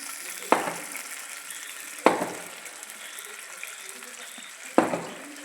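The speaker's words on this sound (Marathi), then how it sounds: "थोड्या भाज्या भाजून घेतल्या" Vegetables, potatoes and roasted peanuts fry in a pan for masale bhat, with three sharp stirring knocks against the pan spaced a couple of seconds apart over a soft steady sizzle.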